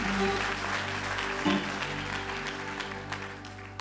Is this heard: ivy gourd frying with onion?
no